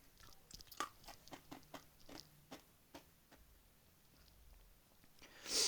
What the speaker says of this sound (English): Sorry for my crunching of ice.